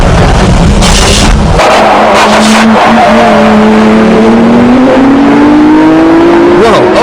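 Racing cars on a circuit, a Yashio Factory Nissan S15 and a Nismo GT-R, screaming loudly past with rising engine pitch through the gears and a brief tire squeal.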